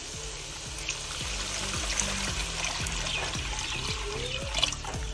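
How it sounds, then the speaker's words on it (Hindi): Water is poured into fried masala in a pot for an amla curry, a steady pouring rush over several seconds with faint sizzling underneath and no talk. "अब इसमें मैं पानी डाल दूंगी।"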